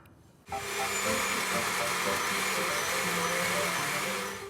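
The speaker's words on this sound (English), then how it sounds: "blend everything into a smooth paste" A blender starts abruptly after a short quiet moment and runs at a loud, steady whir, pureeing cooked tomatoes and tikka masala spices into a smooth paste.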